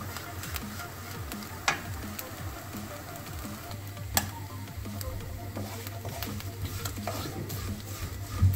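Grated coconut roasts in a pan while being stirred, a steady soft sizzle with scraping stir strokes and a few sharper clicks of the spoon against the metal, close and continuous.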